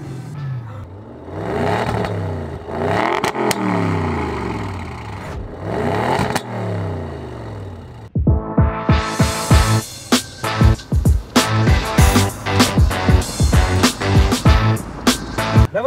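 An Audi RS6 with a 560 hp V8 revs and accelerates, with repeated rising and falling engine sweeps followed by sharper, louder bursts of revving and crackling, close and aggressive.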